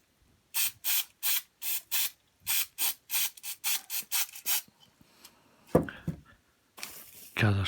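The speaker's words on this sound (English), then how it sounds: "we'll just give it a little spray." Short bursts of spray from an aerosol can aimed at an 00 scale model tree canopy, about a dozen quick hissing pulses in steady rhythm, followed by a pause, a soft clatter and a longer hiss.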